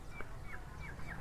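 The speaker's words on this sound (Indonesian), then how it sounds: "Ada ayam guys." Chicken making a few soft clucking calls at a distance, roughly three short chirpy notes spaced evenly over a low background rumble.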